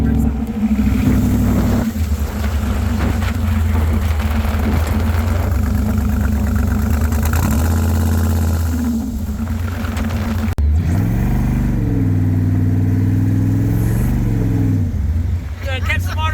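A 1956 Corvette with an engine fault runs while being driven, a loud continuous low drone that rises and falls with throttle, with people talking over it inside the car.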